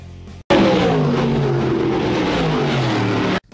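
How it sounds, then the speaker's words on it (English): Dirt big block modified race cars roar past at the Orange County Fair Speedway in Middletown, New York, a loud sustained engine blare that cuts in abruptly and holds steady before cutting off. "The Eastern States 200 at the Orange County Fair Speedway would get going for the dirt car big block modifieds, as the Jersey Jet Brett Hearn"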